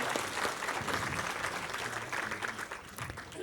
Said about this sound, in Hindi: देखो आप लोगों के लिए विशेष तालियां